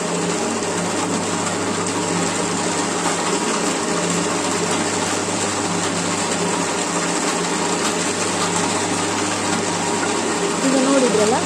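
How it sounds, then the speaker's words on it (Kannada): A black pepper separating machine runs steadily after harvest, stripping peppercorns from their spikes with a loud, continuous mechanical whir and rattle that holds at a constant level throughout. "ಇದೀಗ ಸಪ್ರೇಟ್ ಮಾಡುವಂತಹ ಮೆಷಿನ್ ಇದು ಬಿಡಿಸ್ತದೆ, ಕರೆಕ್ಟಾಗಿ ಬಿಡಿಸ್ತದೆ."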